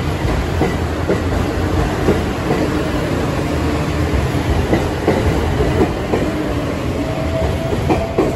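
A Thunderbird 683 series express train rumbles steadily, with clickety-clack wheel beats over a continuous loud roar of rolling stock.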